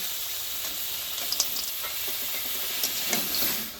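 Tomatoes and salt sizzle in a frying pan with a steady, bright crackle, punctuated by a few light stirring clicks and scrapes near the end.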